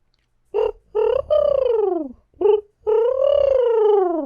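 A human voice imitates a dove cooing, giving a few short hoots followed by longer, falling coos, loud and close in a quiet room.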